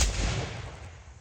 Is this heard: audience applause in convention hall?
no